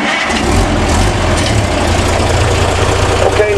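A rat rod's engine turning over and settling into a loud, rough idle close by, a continuous low rumble with a lumpy, uneven pulse and some background noise.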